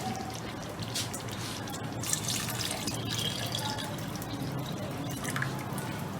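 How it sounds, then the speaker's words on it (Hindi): Water is poured in a faint, steady trickle into a pressure cooker holding arvi gosht curry for the broth, heard close but quietly against a hissy background. "मैं 2 बड़े गिलास शोरबे के डालूंगी, पानी के डालूंगी ताकि शोरबा तैयार हो।"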